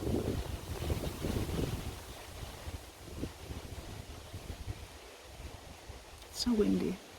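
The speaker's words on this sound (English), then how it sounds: "It's so windy." Blustery outdoor wind rumbles against the microphone as a low, fluctuating roar, louder at the start and again near the end, with soft speech mixed in.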